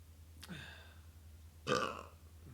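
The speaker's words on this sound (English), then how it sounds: "and belch." Two separate belches, a short one followed about a second later by a longer, louder, throaty one, with no talking around them.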